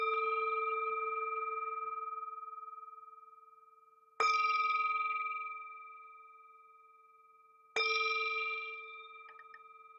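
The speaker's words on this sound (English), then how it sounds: "The sound of this beautiful bell returns us to our true home." A meditation bell is struck three times, each a clear ringing tone that swells instantly and then decays slowly, spaced about four seconds apart with silence between strokes and no voices.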